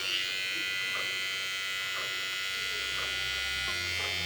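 A Wahl A-Lign electric trimmer runs steadily with a constant high buzzing whine, close to the listener, and small faint rhythmic clicks sound about once per second.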